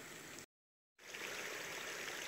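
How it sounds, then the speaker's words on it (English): A small waterfall of running water after rain, a soft steady rushing hiss that cuts out briefly and resumes, quiet and close. "I got my own little waterfall. It just sounds so cool."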